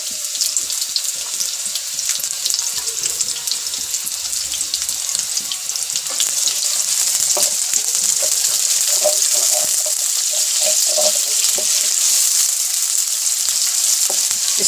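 Chopped onions and cumin seeds frying in hot oil in a home kitchen, a close, loud, continuous sizzle with crackling pops and occasional stirring.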